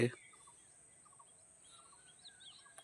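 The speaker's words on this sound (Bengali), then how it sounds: "পাখির ডাক শোনা যাচ্ছে" Faint, scattered bird calls drift in from a distance over a quiet forest-edge roadside, with short chirps spaced a second or so apart.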